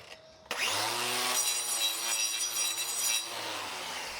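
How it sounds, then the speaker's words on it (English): A grinder removing excess glue from a horse's hoof: a click, then a steady, loud whirring grind with a high tonal whine that holds for several seconds and eases slightly near the end. "Now we're just going to take all of the excess glue off with a grinder before we get to blocking this foot"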